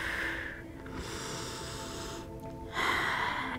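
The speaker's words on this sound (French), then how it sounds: "Et prenez quelques grandes respirations de plus." Slow, deep breaths taken during a yoga relaxation session come through close and fairly soft. A couple of long breathing cycles are separated by brief pauses, with no talking.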